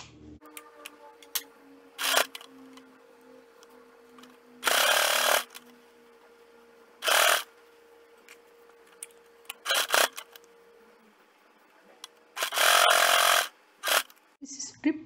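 A home sewing machine stitches fabric strips for a face mask in several short bursts of rapid whirring, separated by quiet gaps while someone talks.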